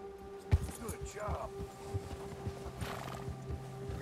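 A horse in Red Dead Redemption 2 whinnies and clip-clops along a trail, hooves thudding steadily beneath a neigh, with a voice talking over it.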